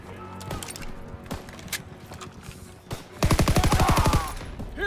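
Rapid machine gun bursts in a Call of Duty WW2 campaign battle: a fast, loud, evenly spaced stream of shots following scattered gunfire and explosions, with brief shouting beneath the combat.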